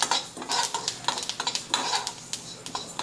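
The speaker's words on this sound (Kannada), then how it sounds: "ಚಟಪಟ ಸೌಂಡ್ ಬರಾಕತ್ತಾವೆ" Sesame seeds dry-roasting in a pan while being stirred, with rapid close crackles and repeated scraping strokes of a spoon against the metal.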